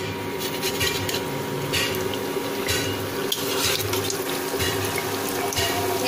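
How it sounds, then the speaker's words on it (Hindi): Nimki dough frying in hot oil over a medium gas flame, giving a steady, dense sizzling hiss that stays close and fairly loud throughout with no talk. "अब हम इसे तेल में पोर करेंगे धीरे धीरे से"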